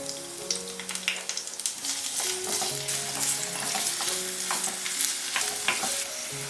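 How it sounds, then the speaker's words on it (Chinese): Aromatics stir-fried in oil in a heated clay pot, giving a steady close sizzle broken by repeated scraping strokes of a spatula against the pot, with no talk. "把砂锅加热，加入少许油，把配料放进来炒香"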